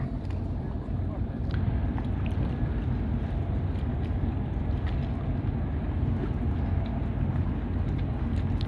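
The Neptun tug works in Koper harbour, towing a transport ship out toward open sea. A continuous low engine rumble runs throughout with wind noise and water wash, and no one talks.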